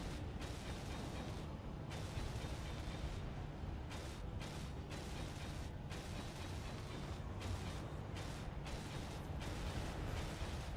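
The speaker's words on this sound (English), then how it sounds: "I want to weld this up just so I can see what I'm doing" Welding tool at work on a structure in the game Space Engineers, a steady loud mechanical grinding and crackling hum that pulses with brief gaps, running continuously without talk.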